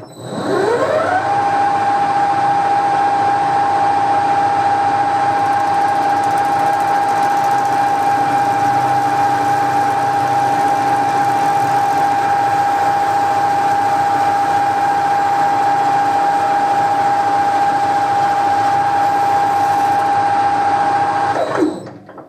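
A lathe skims a motorcycle footpeg during a repair, with a steady motor hum that spins up, holds a constant pitch with a rough cutting texture, then winds down; close, loud and continuous, without talk.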